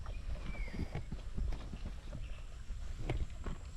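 A young foal's hooves clip-clop in a loose, uneven rhythm of soft knocks over low background noise, fairly faint and not far off.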